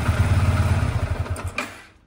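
A Yamaha FZ150i motorcycle engine idles close by with a steady low chugging pulse, then briefly revs and fades as it shuts down.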